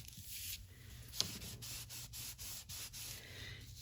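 Wax is rubbed down by hand on the back of a paper doll fairy, producing close, soft scraping strokes in a quick repeating rhythm with brief pauses between passes.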